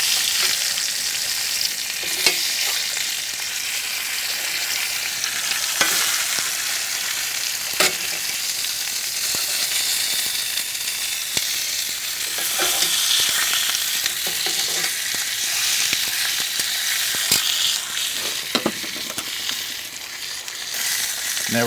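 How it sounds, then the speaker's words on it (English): Pork chops searing in a hot pan, a loud continuous hiss and crackle with occasional sharper pops and some stirring or shifting noises, close up and unbroken. "Sear off the other side now."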